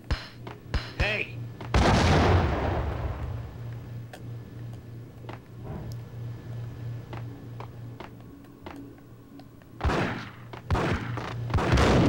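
A grenade goes off in Max Payne amid sharp gunfire cracks: a heavy boom early on with a rumbling tail, scattered shots and clicks, then another loud burst near the end.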